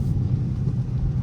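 Dodge Charger RT engine droning low and steady while driving through a city at night in a rainstorm, a continuous close rumble with no talk.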